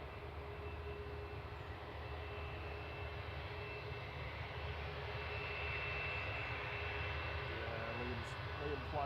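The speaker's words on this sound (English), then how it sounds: "a lovely Ethiopian landing in the beautiful pinky morning, straight into a Eurowings takeoff" A Eurowings plane taking off at Manchester Airport: a steady, distant roar of jet engines that holds and slowly swells over the whole stretch, with a faint low rumble beneath and no clear voices.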